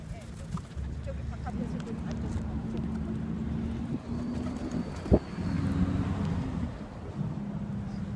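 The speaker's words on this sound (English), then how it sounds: "Talk about friendly pigeons." Pigeons coo softly and steadily while being fed by hand outdoors, a low continuous burbling close by with traffic murmur behind and a brief flutter or knock midway.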